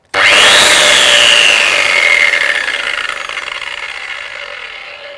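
A Metabo WEPBA 26-230 MVT Q angle grinder motor kicks on at full speed almost immediately, whining loudly, then holds a steady high-pitched hum that slowly fades. No voices.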